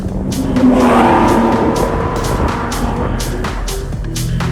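An Aston Martin DBS V12 with a 6-liter engine drives on, its steady engine drone loud and close throughout, with a brief swell near the start and no talking.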